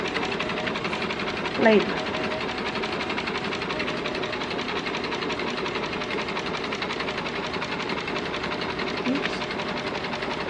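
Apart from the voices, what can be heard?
sewing machine stitching a skirt seam with white thread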